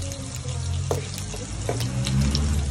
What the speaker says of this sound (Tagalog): Dahil magigisa naman tayo ng bawang at sibuyas.